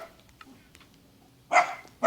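In the Minecraft game, a chicken gives a dog-like bark, one short sharp yelp at the end of an otherwise quiet moment.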